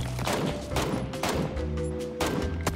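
Gunfire in a first-person shooter video game, several sharp, loud shots spaced irregularly, each followed by a short ringing tail.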